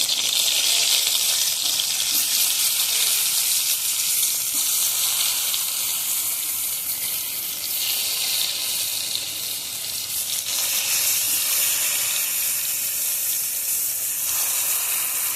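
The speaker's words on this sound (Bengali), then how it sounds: "এখন টমেটোগুলো লবণ হলুদ মাখিয়ে নিচ্ছি এখন টমেটোগুলো ভেজে নিবি" Tomatoes coated with salt and turmeric fry in a pan, producing a loud, continuous bright sizzle and hiss that holds steady throughout, with no talking.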